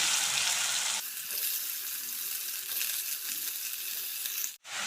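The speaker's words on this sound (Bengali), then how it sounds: "কালো জিরে দিয়ে দিলাম এবার দিয়ে দিচ্ছি চাল কুমড়োগুলো" Pieces of ash gourd hit hot oil seasoned with nigella seeds and green chilli in a frying pan, giving a loud close sizzle that settles into steady frying with light stirring, then cuts off briefly near the end.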